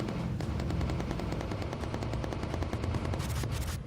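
Machine guns on bombers in the Bomber Crew video game fire in a loud, sustained, rapid rattle with no break, filling the whole stretch with no voices over it.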